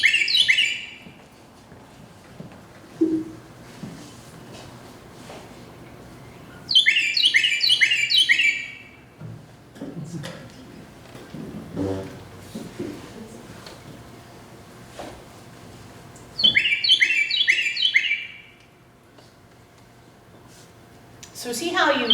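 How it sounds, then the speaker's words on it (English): A songbird repeats a loud, bright "tea-kettle" phrase three times at even intervals, each burst a rapid ringing series, with someone talking quietly between the songs. "So see how you can kind of hear tea kettle in his song."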